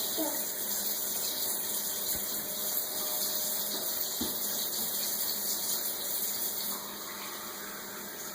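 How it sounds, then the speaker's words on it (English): Water runs steadily from a kitchen sink tap in a new kitchen, a continuous close splashing flow that lasts throughout, with faint background sounds. "Okay, Leo, put a little bit in and then I'm going to turn off the water."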